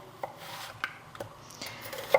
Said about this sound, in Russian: За это время порежем одну луковицу